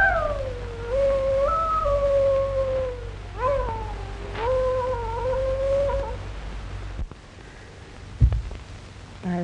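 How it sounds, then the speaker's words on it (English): A dog howling in an old 1935 film soundtrack, long wavering howls rising and falling one after another over a constant low hum, then fading to quiet with a brief thump. "I wish you'd stop that awful howling."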